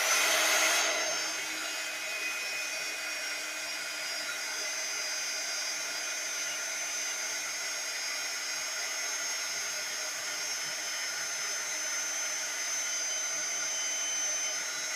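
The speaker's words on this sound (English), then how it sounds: "I'm going to blast you with heat again, so you'll just have to ignore the noise for a minute." A craft heat tool blows hot air steadily for the whole stretch, a loud, even whooshing hiss that starts with a brief louder burst and then holds at a constant level, close to the microphone with no talking.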